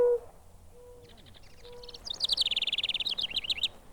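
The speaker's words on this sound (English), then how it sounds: "that's the mourning dove." A mourning dove gives a few soft, low, drawn-out coos at a moderate distance. A brighter, rapid chirping birdsong takes over and grows louder in the second half.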